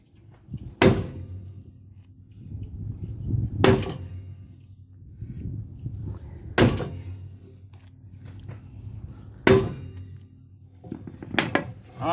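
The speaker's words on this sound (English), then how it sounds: "So we'll just give it a couple of whacks and see what we can do with it." A Ford or Ferguson tractor radius rod being hammered straight: four loud, ringing metal whacks spaced about three seconds apart, over a low steady hum, with a fainter double strike near the end.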